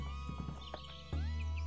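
A possible Mustang horse in the Roblox game Wild Horse Islands, with soft hoof clops followed by a clear, rising whinny near the end, quiet and without speech.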